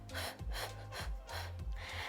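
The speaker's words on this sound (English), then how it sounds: "Breathing in for 5 and out for 5." Breathing during a Pilates exercise, a slow sequence of close, audible breaths in and out repeated several times at an even, unhurried pace with no talking.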